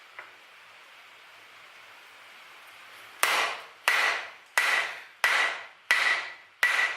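Hammer blows ring out on hot metal over the edge of an anvil while forging a leaf keychain: a quiet hiss first, then six sharp, bright strikes in a steady rhythm, each with a short metallic ring.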